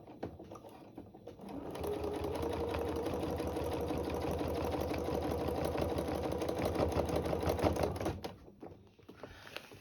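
A sewing machine runs steadily while stitching in the ditch on a quilt, its fast even needle rattle starting after a brief pause, holding for about six seconds, then stopping; close and alone, with no talking.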